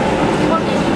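A metro train runs underground with a loud, dense, continuous rumbling roar close by, heard on board.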